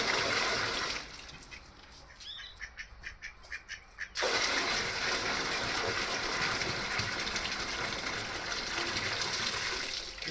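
Water pours into a tub set out for ducks, a loud steady gushing rush that breaks off briefly for a few seconds of quieter splashing and quacking before the pouring resumes and continues to the end.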